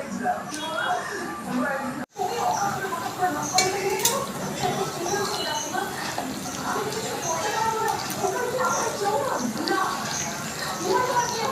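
Jackfruit seed fritter batter is mixed by hand with homemade rice powder in a bowl, giving soft, continuous squelching and light clinks, with a voice talking over it throughout.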